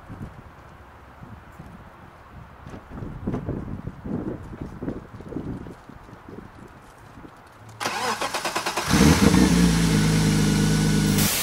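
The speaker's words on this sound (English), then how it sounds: "I'm about to start the car and see what happens." A BMW E36 drift car is started up partway through: first some clattering handling sounds, then the engine catches and settles into a loud, steady idle with a constant drone that holds to the end.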